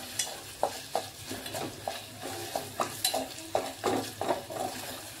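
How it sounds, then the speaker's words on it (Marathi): Paneer fries in ghee in a pan, with close sizzling broken by regular stirring scrapes roughly every half second, steady and without talk. "पनीर पण अगदी मस्त तुपामध्ये सवतळून घ्यायचं"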